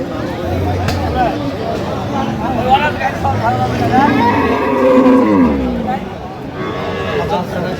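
Sahiwal cows and calves moo repeatedly at the Aftabganj cattle market haat, with several close, drawn-out lowing calls under people talking and general market bustle.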